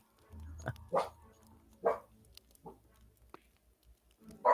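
A pet dog barks several times indoors, short separated barks at moderate distance, fairly faint against a quiet room.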